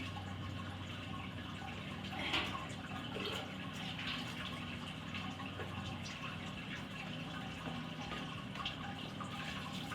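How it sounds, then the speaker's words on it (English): Water poured over the grain bed of a home brewing mash splashes and trickles steadily, a continuous close wash of liquid noise with no speech. "Now, we could diffuse this water as I'm pouring it on."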